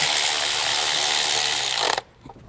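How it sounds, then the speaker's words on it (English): A ratchet with a 10 mm socket tightens a screw that secures the intake tube on a Ram aFe Magnum Force Stage-2 air intake, giving a loud, close, steady whir for about two seconds before it stops abruptly. "We're going to grab our 10 millimeter, tighten it up."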